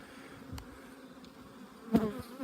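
Honey bees buzz steadily during a spring hive inspection, a low close drone with a few faint knocks and one brief louder bump.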